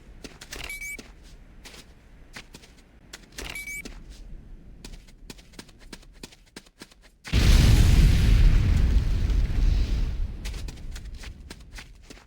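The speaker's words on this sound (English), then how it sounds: "move to a safe distance before detonating with your secondary fire" A detonated demolition charge in the Command & Conquer Renegade training level: a sudden loud deep blast with a rumbling tail, preceded by sparse clicks and small game sounds.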